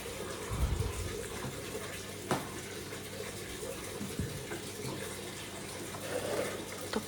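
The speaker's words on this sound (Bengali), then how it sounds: "তো এখানটায় আবার জামা কাপড় ধুচ্ছি।" Running tap water splashes steadily while clothes are washed by hand, with a few sharper knocks and splashes, at moderate level and without clear talk.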